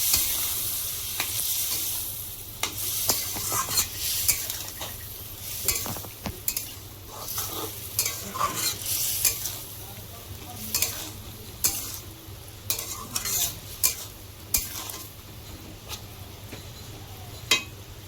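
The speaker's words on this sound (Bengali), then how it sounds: "এরপরে দেবো সামান্য একটু জল দিয়ে ভালো করে কষাবো।" Potatoes frying in a pan with a little water and spices, a continuous sizzle broken by repeated scraping stirs from a spatula.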